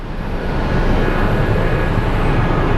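A large jet at Sky Harbor airport, a Boeing 777 or a 707-derived KC tanker, gives off a steady, loud broadband roar that holds constant throughout, with no talking.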